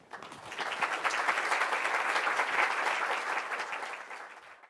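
An audience at an academic lecture breaks into steady applause that swells quickly, holds for a few seconds, then tapers off near the end.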